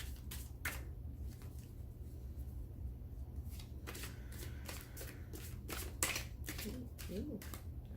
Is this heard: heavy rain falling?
no